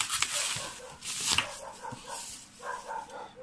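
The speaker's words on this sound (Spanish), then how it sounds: "Perro se puso a ladrar justo cuando estoy grabando" A dog barks indoors in a run of sharp, irregular yips and woofs, a few louder bursts mixed with softer whimpering calls, moderately close and with no talk over it.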